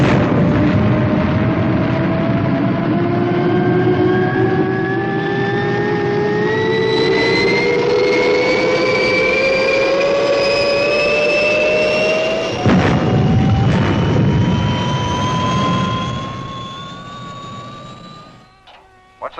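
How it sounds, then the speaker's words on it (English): The Fireball XL5 spaceship lifts off with a loud, sustained jet-like roar and rising whine that climbs steadily in pitch, swells with a burst near the end, then fades out. "Clear for liftoff"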